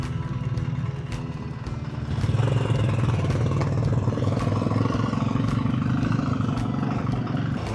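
Motorcycle ride with the engine droning steadily nearby, rising in pitch and loudness as it accelerates partway through, with rattling and rushing noise over it.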